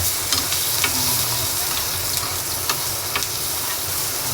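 Onion and garlic sautéing in a hot pan give a steady close sizzle and crackle, with light stirring scrapes running through it.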